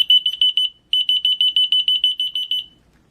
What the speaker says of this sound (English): when you press a button on the transmitter, the corresponding receiver will sound